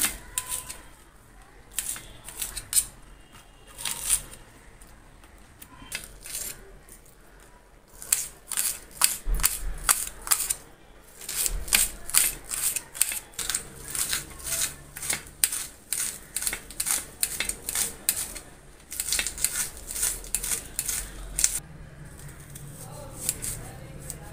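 Spring onion greens being finely chopped with a knife on a board, a rapid run of crisp taps that comes in bursts with short pauses, close and fairly quiet.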